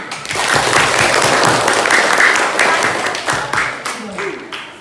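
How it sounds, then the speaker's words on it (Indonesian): A class claps after a group presentation, a burst of clapping from many hands that swells quickly, holds for a few seconds and then tapers off, with voices mixed in. "Berikan tepuk tangan."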